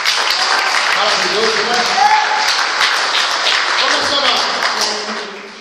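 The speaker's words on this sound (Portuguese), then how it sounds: "Aplauda o Senhor." A church congregation applauds the Lord, a broad wash of clapping under a preacher's amplified voice as he talks with a woman, the applause fading toward the end.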